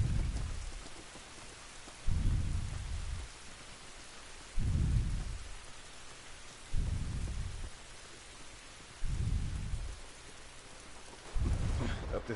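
Steady rain hisses in The Last of Us, with regular deep, rumbling thuds rolling in every couple of seconds beneath it.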